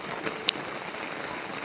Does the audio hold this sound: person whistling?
no